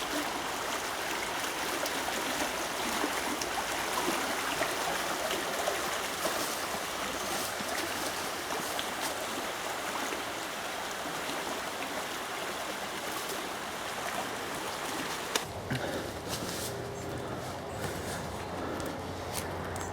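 A woodland river swollen about six feet above its usual level rushes past in a steady, loud broadband roar. The flow continues unbroken and alone, shifting slightly in tone near the end.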